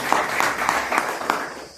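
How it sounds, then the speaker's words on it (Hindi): An audience at a Hindi-language talk or seminar gives a short burst of applause, brisk overlapping claps filling the room for about two seconds. "पहली सीढ़ी कंप्लीट करने वाले उन साथियों के लिए जोरदार ताली हो जाए"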